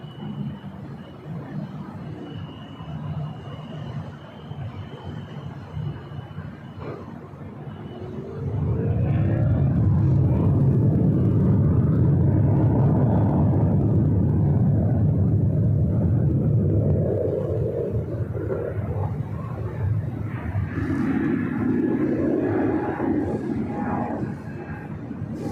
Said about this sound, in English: We have a 777 with United taking off on 25 right.